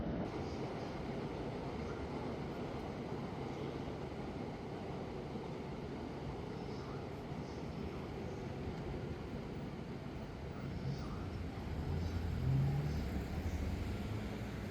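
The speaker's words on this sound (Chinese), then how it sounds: "在列车出来的这一刻" A commuter train rolls out beside a station in Tokyo, a steady loud rumble of wheels on rails held throughout with a slight swell near the end, no voices.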